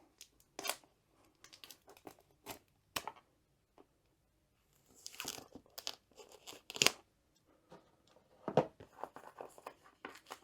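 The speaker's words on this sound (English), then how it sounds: "Take the cellophane off." Crinkly cellophane wrap on a diamond art kit box is snipped with scissors and peeled off in sporadic bursts, sharp crackles and rustles separated by quiet pauses.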